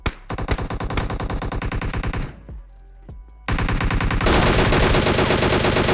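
Rapid automatic gunfire bursts in Battlegrounds Mobile India, loud and rhythmic machine-gun volleys, a brief pause with a few single shots, then sustained heavy firing resumes, with no talking.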